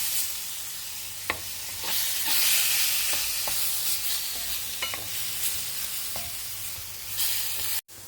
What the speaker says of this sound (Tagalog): igisa-igisa lang natin.